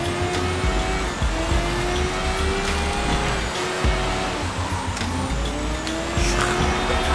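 An in-game car reverses in Sleeping Dogs, its engine droning loud and continuous with rising revs and some tire noise, and nobody speaks.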